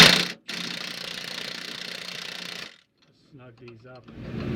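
A ratchet-style wrench works Panhard bar bolts on a 1984 Wanderlodge PT coach, giving a steady, close mechanical clicking for over two seconds, then a pause and a few short grinding bursts.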